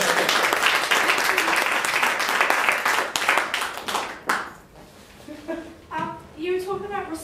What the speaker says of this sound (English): First of all, round of applause for you.